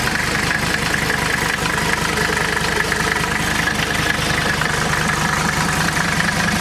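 A Mercedes OM617 diesel truck engine idles nearby with the air cleaner removed, a steady, rapid knocking rumble, continuous and unchanging throughout.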